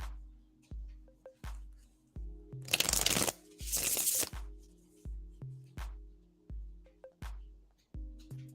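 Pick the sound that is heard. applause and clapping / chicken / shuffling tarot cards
shuffling tarot cards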